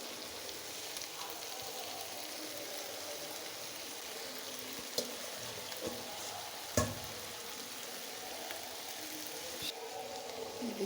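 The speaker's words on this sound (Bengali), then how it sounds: "আলু, বেগুন, টমেটো দিয়ে ভালোভাবে কষিয়ে নেব।" Vegetables (potatoes, eggplant, tomatoes, cauliflower) sizzle steadily in a pan with dried fish while being stirred, a soft continuous frying hiss broken by a few faint scraping clicks of a spoon.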